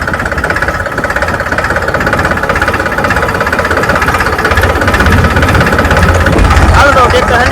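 A tractor engine runs close and loud with a steady knocking chug that swells slightly toward the end, and voices can be heard over it.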